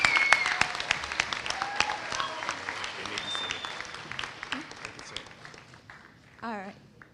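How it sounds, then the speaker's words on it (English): Audience applause at an elementary school moving-up ceremony: full crowd clapping loudest at the start and gradually thinning, with chatter and a few voices throughout and a whistle-like tone near the end. "Can you guys give another round of applause?"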